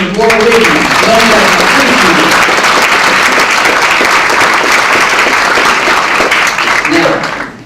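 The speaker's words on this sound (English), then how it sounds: "One more round of applause for Staff Sergeant Laura Williams." Sustained, loud applause from a luncheon audience fills the room for several seconds, with a voice briefly audible over the clapping near the start and end.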